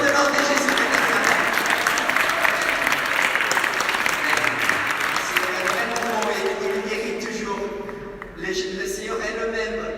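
A church congregation clapping together in sustained, dense applause with crowd noise, gradually thinning toward the end as a voice begins speaking over it.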